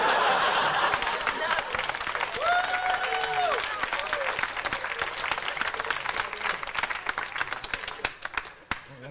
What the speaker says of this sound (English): Clap, I'm not used to that, man.